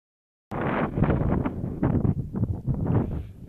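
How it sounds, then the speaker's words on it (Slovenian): Wind gusts across a snowy mountain pasture at Planina Koren, 1675 m, buffeting the microphone in loud, uneven rumbling bursts after a brief silent start. "Evo, tle pa spet piha."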